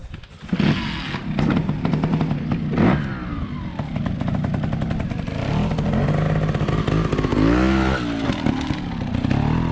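A trials motorcycle rides in first gear over a log during a training day, its engine revving loudly and continuously up close with rising and falling throttle and some mechanical clatter.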